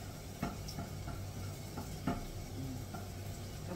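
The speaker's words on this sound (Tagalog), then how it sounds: "So i-stir ko muna siya." Vegetables with garlic are stirred in a pan for a Chinese-style stir-fry, a soft steady sizzle with a few light scrapes and clinks of the utensil against the pan, fairly quiet and without speech.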